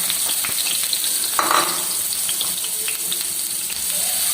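Steady oily sizzling of onion and tomato tempering frying in a hot pan for radish curry, continuous and close, with a few faint clinks and splashes mixed in.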